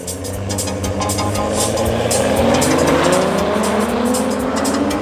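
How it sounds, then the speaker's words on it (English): Drag race cars at Midvaal Raceway roar down the strip in one loud, continuous run, their engines rising in pitch with a faint tyre squeal mixed in. "there was the quietest drag race all day"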